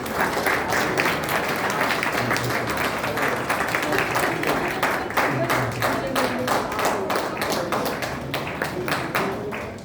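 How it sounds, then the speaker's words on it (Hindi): An audience at a children's Junior Arya Samaj programme keeps up steady, rhythmic clapping in near unison for about ten seconds, with faint voices underneath. "तालियां बजती रहें"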